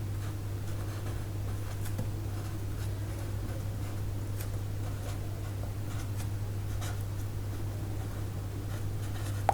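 Chalk or marker writing on a board during a physics lecture on electric fields, with light scratchy strokes and taps spread across the clip over a steady low electrical hum, with no talking.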